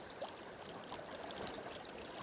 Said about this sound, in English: Good times filling up the water here.